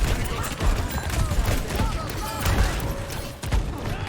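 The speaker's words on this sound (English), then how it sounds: "Who's shooting me over here?" Rapid gunfire crackles in Overwatch on the King's Row map, dense repeated shots and mechanical clatter going on continuously with game noise behind it.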